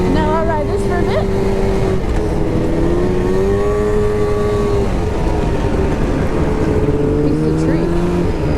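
A snowmobile engine drones steadily while riding on New Hampshire trails, its pitch rising and falling with throttle changes, loud and constant, with wind noise and some speech-like sounds mixed in.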